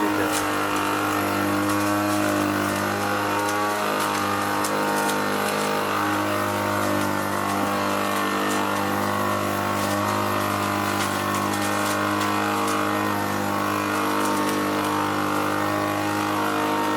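A combine harvester engine runs steadily at about half throttle, a loud, constant drone with no change in pitch, up close and without talk.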